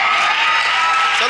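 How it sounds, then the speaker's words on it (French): Women in a church service clap together, a dense, continuous burst of applause filling the room, loud and close, with a voice speaking over it. "Aujourd'hui, c'est les femmes seulement qui applaudissent pour moi."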